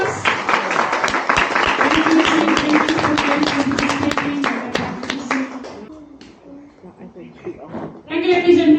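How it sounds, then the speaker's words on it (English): A round of applause at a Fiji cultural village show: loud, rapid clapping from a gathered audience for several seconds, with a voice running over it, then a lull before sound rises again. "ladies and gentlemen, di kawasan ini, let's give a round of applause"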